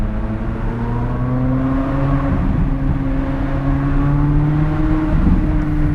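Corvette Z06 with a 5.5 liter flat-plane-crank naturally aspirated V8 revving steadily around 3,500 to 4,000 RPM while still warming up, a loud continuous close engine drone with rising and falling pitch and no talk.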